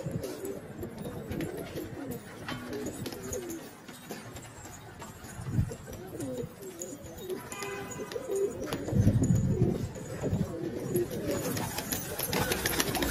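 Domestic pigeons coo in low, throaty, repeated phrases in an outdoor loft on a slightly windy day, several birds close by, with occasional chirps, faint engine rumble and a voice at times.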